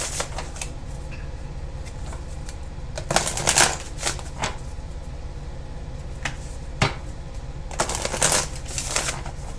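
Tarot cards shuffled by hand in a quiet room, soft riffling bursts with a couple of sharper ruffles and small taps between them, close and fairly faint.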